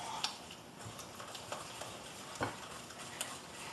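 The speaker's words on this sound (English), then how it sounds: "I'm just going to whisk that around, incorporate all that cheese, egg, brown sugar, Caro syrup, vanilla, all the good stuff in here" A whisk stirs a pecan pie filling of cream cheese, egg, brown sugar, corn syrup and vanilla in a bowl, giving faint, quiet scraping and irregular light clicks and taps of the wires against the bowl.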